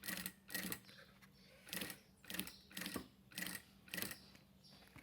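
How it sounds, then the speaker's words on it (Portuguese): A sewing machine stitches a seam slowly around curves on a charger and earphone holder, running in short, close bursts of rapid clatter separated by pauses, with no talking. "Tá vendo a costura, ó? Bem devagar nas curvas pra ficar bonitinho."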